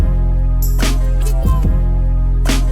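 Sampled drum loop run through a preamp, distortion and LA-2A style compression: a steady thumping beat with punchy hits over a dense sustained musical bed, brief and loud.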